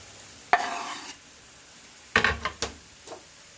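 Green onions and garlic hit a pan with a few short, sharp sizzling bursts and scrapes of stirring, separated by quiet pauses.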